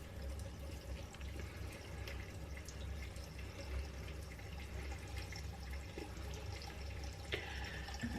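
Faint, steady running water from a tap while makeup wipes are rinsed, with soft splashes and drips throughout, quiet and unaccompanied by speech.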